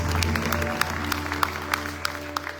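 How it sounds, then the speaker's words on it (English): An audience at a Hindu devotional chanting concert applauds the musicians, with scattered individual claps under a sustained drone, fairly faint. "Round of applause for all musicians and their friends."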